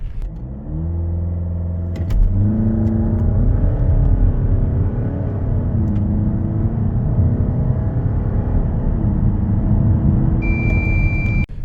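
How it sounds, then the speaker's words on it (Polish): The 2.0 TDI diesel engine of a Volkswagen Tayron 4MOTION SUV, heard from inside the cabin, pulls hard at high revs under load, climbing through gears with a steady droning roar. "na wyższych obrotach i pod obciążeniem, słyszymy w kabinie diesla"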